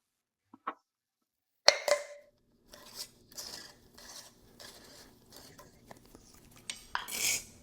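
A jar of spinach in vinegar is opened up close: a few soft taps, then a sharp lid clack, followed by a run of small scraping clicks and a final brighter hiss-like rustle, with no talking.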